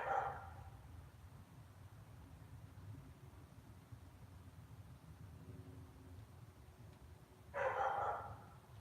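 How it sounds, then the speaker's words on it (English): A dog barks outdoors in two short bursts, one at the start and another near the end, over a steady low hum of background road noise. "And the dog's barking well."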